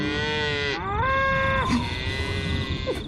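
Ranch bulls give a long, loud bellow that wavers and drops in pitch, then a shorter low call follows over rough outdoor background noise.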